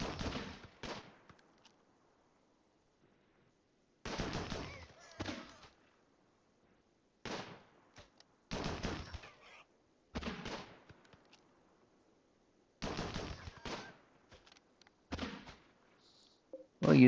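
Gunfire in a video game comes in separate short bursts of rapid shots, loud against near-silent gaps between volleys.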